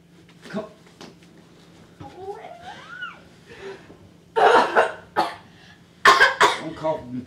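Several harsh coughs and throat clearing from a young man during a playful argument indoors, coming in bursts near the end, with close voices talking around them.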